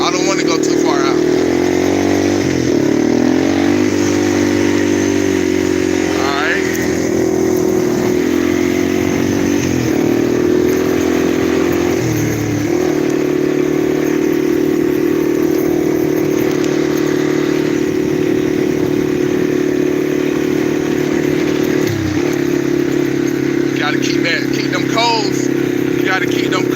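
A four-wheeler ATV engine runs steadily while riding outdoors, with a continuous mid-pitched motor drone that surges and dips slightly with the throttle. A voice talks intermittently over it.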